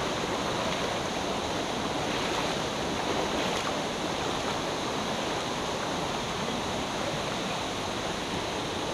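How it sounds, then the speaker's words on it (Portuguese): Rushing stream water during an XTERRA off-road race, a steady broadband wash of flowing water that fills the whole clip, close and loud with no talk. "Acompanha comigo atravessar aqui um riacho"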